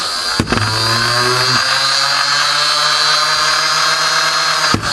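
The flywheel motor of a 9-volt modified Nerf Barricade blaster revs up sharply and holds a steady high whine for several seconds, with a faint click at start and finish.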